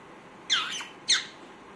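Pet parrot squawking, two sharp, shrill calls about half a second apart, close and fairly loud against a quiet room.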